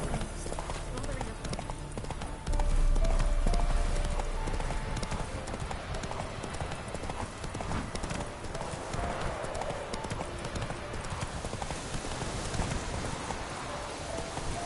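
Geralt's horse Roach galloping in The Witcher 3, a rapid continuous drumming of hooves close by, loud throughout with a brief surge early on, while a voice talks over it.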